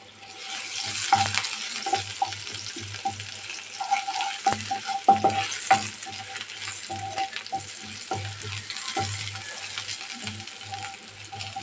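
Onion frying in oil in a pan, cooked for a boiled-egg dish, sizzling steadily with repeated stirring and scraping knocks throughout, close up and with no voices.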